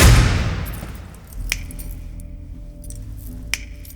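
Two crisp finger snaps, about two seconds apart, ring out clearly over a low ambient hum after a fading swell of film-scene noise.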